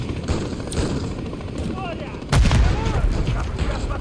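Shotgun fire in the Call of Duty: Modern Warfare 3 campaign, a loud blast that jumps up sharply partway through and rolls into a dense stretch of gunfire and rumble over constant battle noise, with voices talking throughout.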